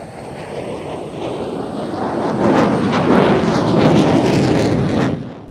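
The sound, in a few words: F-16 fighter jet flying a 360 turn at an air show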